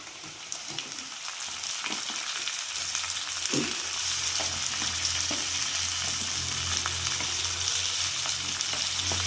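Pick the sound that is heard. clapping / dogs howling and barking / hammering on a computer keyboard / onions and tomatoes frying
onions and tomatoes frying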